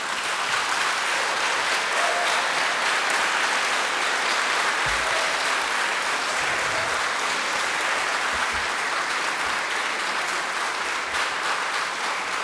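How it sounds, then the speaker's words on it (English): Steady audience applause fills a panel discussion on science and God, with dense, even clapping throughout and no pauses, maybe a faint voice buried underneath. "You can clap at the very end."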